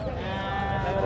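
Goat bleating at Taxila bakra mandi, a crowded livestock market, a steady bleat carried over dense background chatter and market noise.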